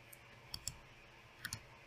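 A computer mouse clicks faintly several times in a quiet room, a single click followed by two pairs of quick clicks.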